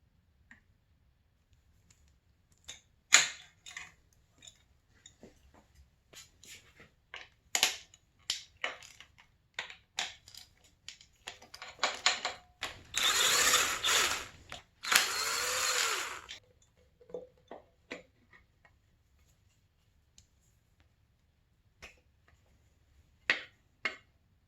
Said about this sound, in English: then you're going to undo these 2 10 millimeter bolts